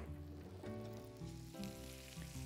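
Spices, fresh ginger and minced garlic stirred together in a hot pan for Indian chicken curry, with steady close sizzling and frying under scraping stir strokes, no talk.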